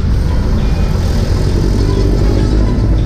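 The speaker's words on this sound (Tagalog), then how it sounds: "Hanggang dito, traffic pa rin." Heavy road traffic on a service road between Muntinlupa and San Pedro, Laguna, heard as a loud, continuous roar of car and motorcycle engines with wind rush, close and unbroken, no voices.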